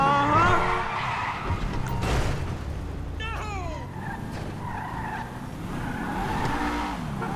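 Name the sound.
car skidding and crashing in GTA 5 video game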